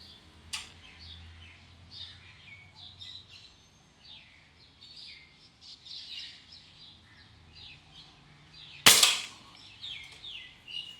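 A springer break-barrel air rifle fires with one sharp, snappy crack near the end, preceded by a fainter click, with birds chirping quietly outdoors throughout.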